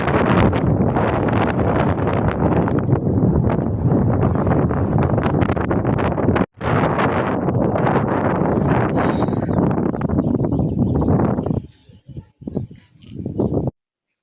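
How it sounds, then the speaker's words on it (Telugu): Strong wind gusting across a reservoir near Yarada in Vizag at midday, a loud continuous buffeting rush on the microphone that breaks off abruptly once, then returns in choppier bursts before stopping. "సూపర్ గాలి అసలు మధ్యాహ్నం టైంలో కూడా"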